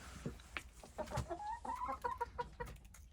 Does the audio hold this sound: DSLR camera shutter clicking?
no